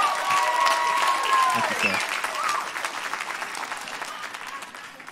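Church congregation applauding a minister, a moderately loud round of clapping that gradually thins out while someone speaks briefly over it, with a few tonal sounds early on.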